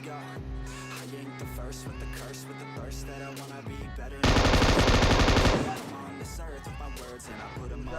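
Rapid automatic gunfire in a battle royale shooter game, with bursts of rhythmic shots that swell into a dense, loud volley in the middle before easing back to scattered fire.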